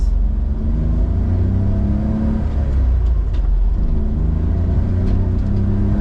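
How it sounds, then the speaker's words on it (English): A steady low engine rumble and road drone from inside a moving kei van, engine mounted behind the driver, continuous with no voices, the motor note humming throughout. "Having the engine note behind you is kind of a cool little twist to it."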